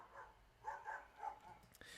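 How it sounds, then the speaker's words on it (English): A dog barking sound effect played back from an audio file, a few short yips and barks in quick succession, moderately faint over a quiet background. "I'm going to select the dog barks."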